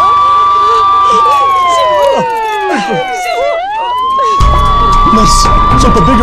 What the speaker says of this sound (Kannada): ಆಂಬುಲೆನ್ಸ್ ಬಂತು.